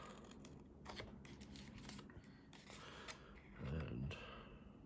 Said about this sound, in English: Let's cut them wedges